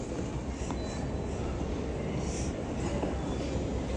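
A Baku metro train rides underground, a loud steady rumble of wheels and car noise with faint clinks, continuous throughout and without talk.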